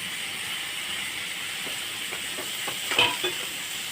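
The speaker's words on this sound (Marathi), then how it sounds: "आता हे कांदा परतून घेतलेला तेलामध्ये आता यामध्ये मी टमाटर घालून घेते" Tomatoes go into onions already frying in oil for a Maharashtrian cauliflower and pea curry, giving a steady close sizzle with stirring clatter and a brief louder hiss as they hit the pan.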